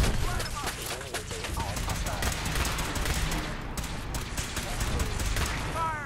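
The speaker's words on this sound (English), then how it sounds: "So there's a lot of gunfire over here." Fallout 4 gameplay gunfire: a dense continuous stretch of rapid shots and bursts with a busy, loud combat texture throughout.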